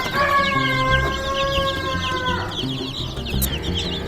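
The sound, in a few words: day-old chicks peeping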